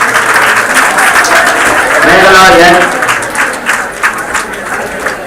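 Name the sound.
applause at graduation ceremony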